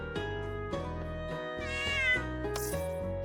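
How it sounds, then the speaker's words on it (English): A video game cat meows repeatedly over a steady game music backing, the cries drawn out and tonal, one louder, wavering meow near the middle, with no voices. "Even if your meowing's different from the other kitties, it's got a lot of presence."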